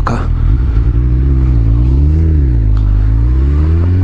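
A Suzuki Hayabusa motorcycle engine revs loud and close, a deep steady roar that rises and dips in pitch as the throttle is worked, with a brief clatter near the start.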